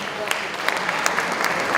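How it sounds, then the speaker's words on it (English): Audience applause at a community meeting on school closures, steady clapping from a room of people, fairly close, with a few sharper individual claps standing out. "Let's give them a round of applause."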